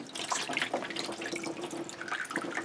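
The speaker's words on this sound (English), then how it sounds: "Wash the spoon." Tap water runs steadily into a sink while a spoon is rinsed beneath it in a darkroom, giving a continuous close splashing with small clinks and drips.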